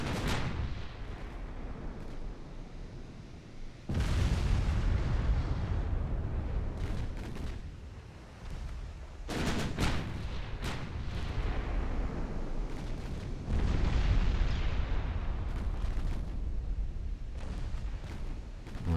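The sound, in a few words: warship main guns firing HE shells, Ultimate Admiral Dreadnoughts video game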